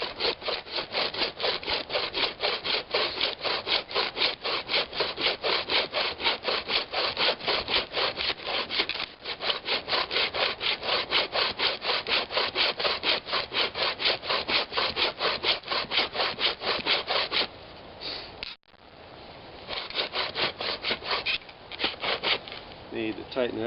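Hand saw cutting through wood outdoors in the bush, a fast, steady rhythm of close, loud rasping strokes that briefly pauses twice before resuming.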